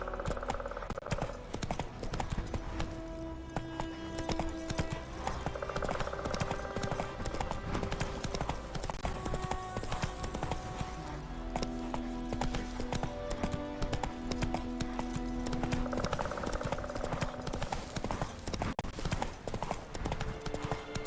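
Roach, a horse in The Witcher 3 video game, gallops steadily with rapid rhythmic hoofbeats, carried over layered game music and ambience throughout, with no talking.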